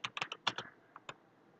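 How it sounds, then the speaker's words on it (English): Quick taps on a computer keyboard as a password is entered, a brisk burst of about half a dozen close keystrokes followed by two slower final presses, quiet and with no talking. "I'm just typing the password"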